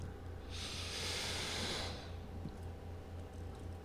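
A slow, deep breath drawn in and let out, a broad airy whoosh that swells for about a second and a half and then fades. It sits close to the microphone over a steady low hum.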